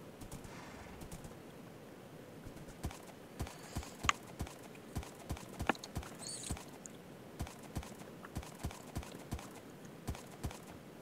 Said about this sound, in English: How are these horses so fat?